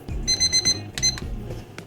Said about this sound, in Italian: Qua il secondo timer